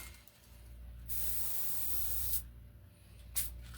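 An airbrush hisses in short bursts of paint spray onto a plaster and foam Jason Voorhees wall hanger, one sustained spray of about a second and a half followed by two quick puffs, close and quiet.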